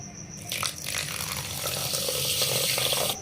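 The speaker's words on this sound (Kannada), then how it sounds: "ಅದರಲ್ಲಿ ಒಂದು ಸ್ವಲ್ಪ ನೀರು ಹಾಕೊಳ್ಳೋಣ್ರಿ" Water poured from a vessel into a pot holding sugar, a short close splashing and filling rush lasting a few seconds with no talk.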